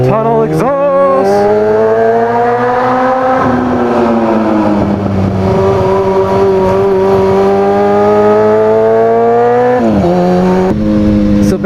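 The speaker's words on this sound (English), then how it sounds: "Tunnel exhaust." A motorcycle exhaust roars and echoes loudly inside a tunnel, rising in pitch through several gear changes with a reverberant, continuous drone and a short pause between shifts.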